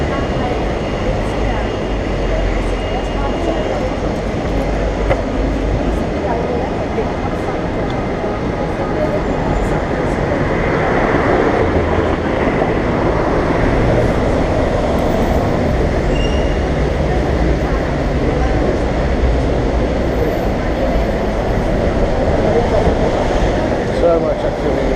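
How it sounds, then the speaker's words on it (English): Busy Hong Kong street ambience near Prince Edward, with a dense, steady roar of traffic and rail rumble and indistinct crowd chatter, loud and continuous throughout. "Now, the noise you can hear is Hong Kong."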